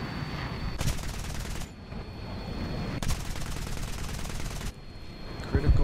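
Aircraft machine guns firing in a propeller plane combat game, two long loud bursts of rapid fire separated by steady engine drone, with a third shorter burst at the end.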